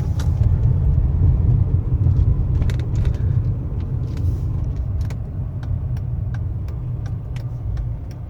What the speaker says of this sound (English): Up to the stop sign, hit the brakes, car brakes fine.